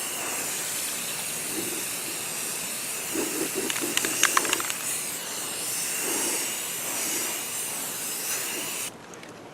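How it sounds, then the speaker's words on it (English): Aerosol primer sprayed onto rusty drum brake shoes, a steady close hiss running nearly throughout with a few brief clicks and knocks midway, cutting off at the end. "All we have to do is first use the primer. Get a nice good coat on it."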